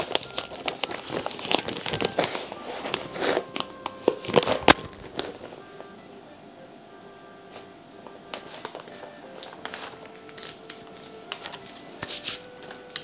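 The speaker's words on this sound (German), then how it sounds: "Und die Folie entfernen." Plastic film crinkles and rustles close by as a marzipan sheet is turned out onto a cake, loud bursts early on settling into softer, sparse crackles.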